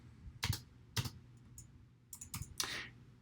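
Short bursts of typing on a computer keyboard, with several quick keystroke clusters separated by brief gaps, heard close and fairly quiet in a still room.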